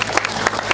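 An audience at an Islamic religious gathering claps for the sound system crew, a short burst of uneven, fairly close hand claps with some crowd noise mixed in.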